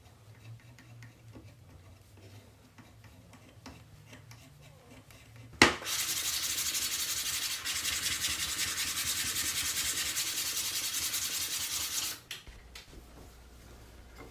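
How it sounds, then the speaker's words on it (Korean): Sandpaper rubbing over wood putty filling the joints and screw holes of wooden sled runners, a loud continuous scraping that starts abruptly after a few seconds of quiet tapping and stops near the end. "샌딩을 하여 줍니다"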